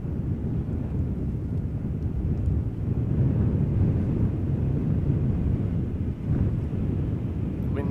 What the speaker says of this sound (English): Wind is picking up a little bit. I can see the camera shake a little bit.